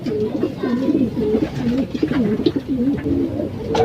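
A young off-color pigeon coos in repeated soft, throaty phrases close by, a steady rhythmic burbling with faint background sounds.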